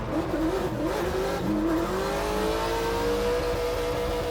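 A Porsche drift car engine revs hard and climbs in pitch, loud and close, with a sustained rising whine as it accelerates around the track.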